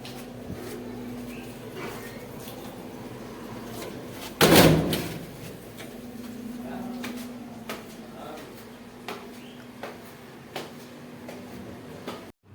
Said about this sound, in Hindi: मैं नीचे वाला डोर बंद करके हूँ